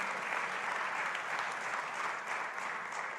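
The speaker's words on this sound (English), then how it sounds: "Welcome, big round of applause." Audience applause at a USDA Ag Day event, a steady, even wash of many hands clapping, moderately distant, with no voices over it.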